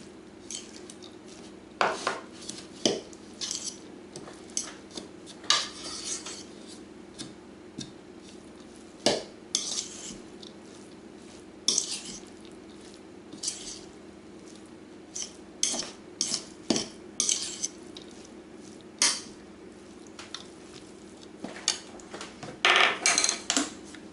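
Sharp cheddar cheese being mixed into a bacon cheeseburger filling in a bowl, with repeated scraping clinks of a utensil against the dish in irregular bursts, close by, with no talk.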